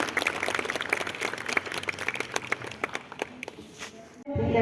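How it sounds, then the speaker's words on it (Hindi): Audience applause welcoming guests at a Shiv Jayanti celebration held by Brahma Kumaris in Dwarka Sector-12, a scattered clapping crowd that thins out and stops abruptly near the end. "आप तालियों के द्वारा भी अपना स्वागत स्वीकार करें"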